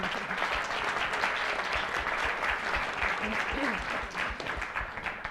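An audience claps for a professor at a lecture, a sustained, even round of applause filling the room from start to finish.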